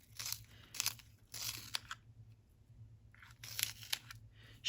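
A black Prismacolor colored pencil is ground in a pencil sharpener in bursts of crisp, crunchy scraping, three quick turns, a pause, then two more, close and fairly quiet.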